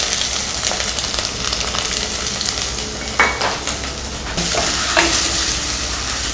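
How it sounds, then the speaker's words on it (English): Crushed ginger and garlic sizzle and fry in heated oil in a pan while being stirred for a prawn theeyyal. The frying hiss is loud and continuous, broken by a few clinks of utensils against the pan. "Crushed ginger, 1 big piece of crushed ginger into the heated oil."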